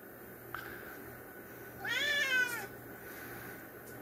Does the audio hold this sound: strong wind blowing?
no